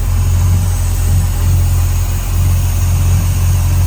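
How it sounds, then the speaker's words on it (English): The V8 engine of a 1967 Ford Galaxie 500 Convertible idles smoothly with a deep, steady low rumble that gently pulses, close by and uninterrupted, with no knocks or pings. "Let's give a listen to that V8 purring along up here."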